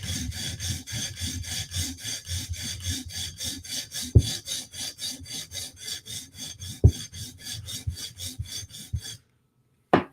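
A knife tip is worked against a sharpening stone in fast, steady rasping strokes, dozens in a row at an even rhythm, close and fairly quiet, with two sharp knocks along the way before the strokes stop abruptly.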